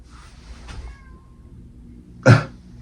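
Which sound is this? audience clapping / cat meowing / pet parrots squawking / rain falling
cat meowing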